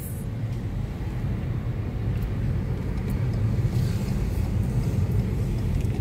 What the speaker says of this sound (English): Driving here in